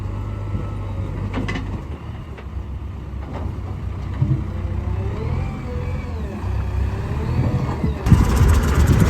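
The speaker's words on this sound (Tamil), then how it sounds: "வண்டி வந்துட்டு ரிவேர்ஸ் விட்டுறலாங்க." A truck loaded with charcoal reverses with its diesel engine running as a steady low rumble. The engine's pitch rises and falls as it works, close by, with a louder surge near the end.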